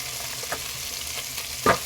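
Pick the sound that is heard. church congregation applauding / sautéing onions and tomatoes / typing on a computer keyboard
sautéing onions and tomatoes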